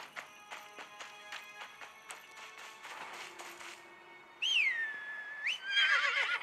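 A horse in the Game of Thrones Kingsroad video game gives a loud, high, wavering neigh, preceded by a rhythmic series of soft clip-clop hoofbeats.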